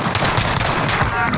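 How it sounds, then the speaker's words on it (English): Rapid gunfire in Call of Duty Warzone, Alcatraz Rebirth Island trios, with dense overlapping shots in a loud, continuous fusillade, and players talking over it. "Who else is shooting at us right now?"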